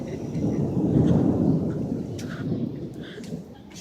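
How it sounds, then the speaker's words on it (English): Thunder rolls through a thunderstorm as a deep, sustained rumble that swells and fades over several seconds, with a steady hiss of rain underneath and a few faint higher taps, no voices. "I heard the thunder!"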